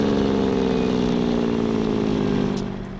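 A vehicle engine in Farming Simulator 15 holds a steady, loud mid-pitched drone with engine braking, fading slightly toward the end. No talking is heard.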